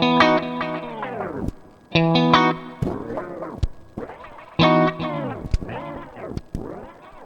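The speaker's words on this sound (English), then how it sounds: "I can control delay time with the modulation pedal, and it sounds like this." Electric guitar notes pass through a synth's three-stage delay effect, each strum followed by repeating echoes whose pitch bends and wobbles as they decay.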